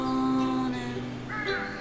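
A crow caws a few times over steady, sustained tonal sounds in the background; the calls come in short, harsh bursts at a moderate distance.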